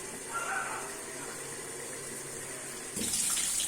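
Tap water runs steadily while rice is washed in a kitchen, a constant close splashing rush that grows louder and brighter near the end.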